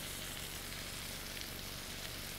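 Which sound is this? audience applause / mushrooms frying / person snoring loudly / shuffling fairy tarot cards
mushrooms frying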